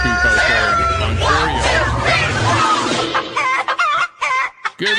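Chicken clucking sound effect, loud and busy with overlapping squawks and clucks, played over a talking voice before breaking into choppy bursts.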